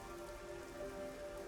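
Steady rainfall in Rain Code Plus, a dense continuous patter on surfaces with no pauses, moderately loud against faint sustained background tones.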